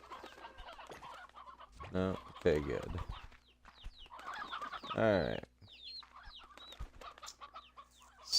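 Roosters and chickens on a ranch in Slime Rancher 2, with a couple of loud, drawn-out crowing squawks and scattered clucks between them, while someone talks briefly in the background.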